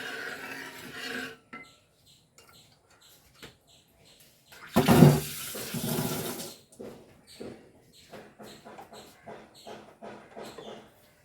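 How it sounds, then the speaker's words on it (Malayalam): Split chickpeas (chana dal) are washed in water for payasam, giving a brief rushing, sloshing swirl midway. Softer rubbing and rasping grain sounds come before and after it. "മുഴുവനായിട്ടും കടലപ്പരിപ്പ് ഒഴിച്ചു കൊടുക്കണം കേട്ടോ ഒന്ന് അലക്കി കൊടുക്കാം"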